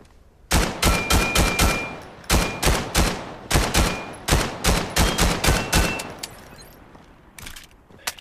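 A PL-14 pistol fires in the VR game Vail, sharp loud shots in quick bursts of several rounds separated by short pauses, ending with scattered lighter clicks and handling noise.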